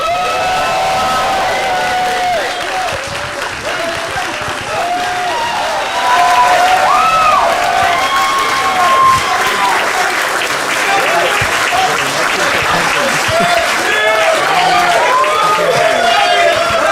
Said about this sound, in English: give a round of applause to our winner for excellence in artistry, Chase Bethea.